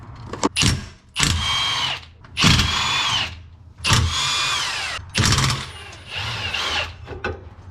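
A power tool whirs in repeated bursts while unbolting a truck's sway bar bolts, each burst rising and stopping with short pauses between, loud and close.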